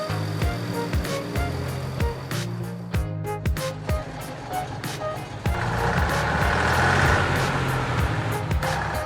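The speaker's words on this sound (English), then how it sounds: "here in front of you is a Ural truck with half its wheels submerged in thick, heavy mud" A Ural truck's engine labours in thick, heavy mud, a low rumbling drone with shifting revs, overlaid by a repeating electronic beep; the engine note grows louder and rougher partway through.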